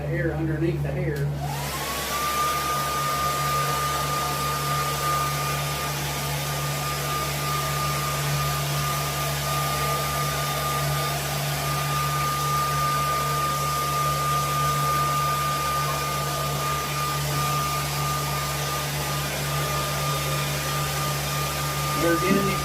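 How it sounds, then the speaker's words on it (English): A blow dryer runs steadily and loudly for over twenty seconds, fluffing the fur of a coyote shoulder mount, its motor a constant whirring drone with a high whine that starts after a short pause and holds unbroken. "I like to run a blow dryer, fluff the hair up real good"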